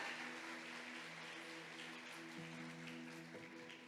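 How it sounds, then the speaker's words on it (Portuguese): A church congregation applauds in a steady, continuous wash of clapping that stays even throughout, at moderate distance. "Dê uma salva de palmas para você que é mulher,"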